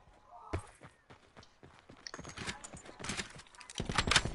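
Footsteps in the online shooter Black Ops 4, a quiet run of light irregular steps on hard ground that grows busier and louder toward the end.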